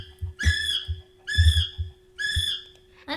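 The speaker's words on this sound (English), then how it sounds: "It says kiwi bird sound." A kiwi bird call recording played back: three repeated shrill, harmonic whistling cries about a second apart, each with low thumping noises beneath, played over a steady hum.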